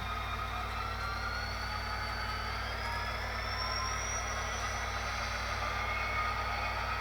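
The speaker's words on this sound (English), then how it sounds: "You can hear the brake squeal when it slows down there." A diesel model locomotive with a Tsunami sound decoder slows, a steady low engine hum beneath a thin, sustained high brake squeal that glides slowly upward over several seconds, quiet and unbroken.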